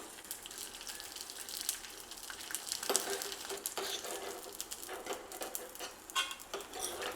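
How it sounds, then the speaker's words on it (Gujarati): Edible gum frying in ghee: a soft, continuous crackling sizzle with light popping and a few stirring clicks, quiet and close, no voices. "અહીંયા મેં 2 ચમચી જેટલો ગુંદર લીધેલો છે, તો થોડો થોડો ગુંદર ઘીમાં ઉમેરશું અને તળી લેશું"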